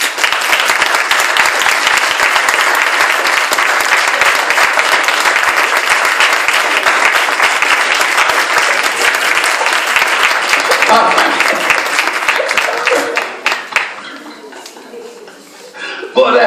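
A church congregation claps together in steady, dense applause for about thirteen seconds, loud and close, with scattered voices and chuckles mixed in before the clapping thins and fades.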